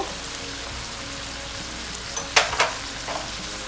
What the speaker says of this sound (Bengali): চিংড়ি মাছ যখন ভাজা ভাজা হতে থাকবে